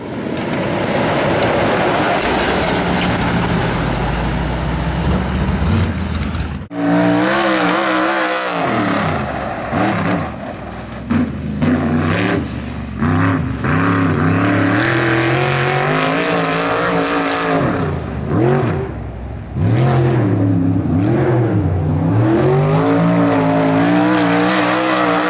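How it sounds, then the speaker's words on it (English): A sprint car called the Boss Hoss races with a loud engine that revs hard and repeatedly, its pitch rising and falling through the gears. The first few seconds hold a steadier, rougher roar. "Drift car."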